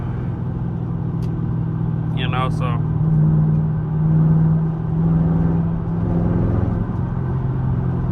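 A Chevrolet Camaro SS engine, jerking under light throttle, gives a steady low rumble and hum throughout, swelling slightly midway, with someone talking briefly over it.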